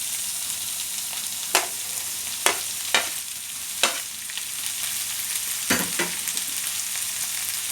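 Snow peas stir-fry in a pan of pancit bihon, a steady close sizzle broken by several sharp scrapes and clatters of a utensil stirring the noodles.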